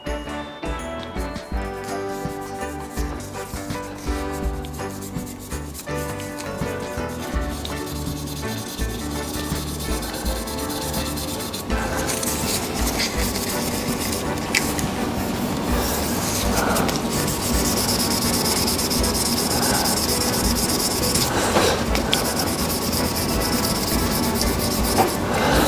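Cloth or paper rubs steadily against a spinning zebrano wood pen blank on a woodturning lathe, a continuous close friction hiss over the lathe's hum that grows slightly louder and brighter midway.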